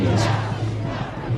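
Anti-war demonstrators in San Francisco shout together as a loud, dense crowd roar, a steady wash of many voices held for about a second and a half.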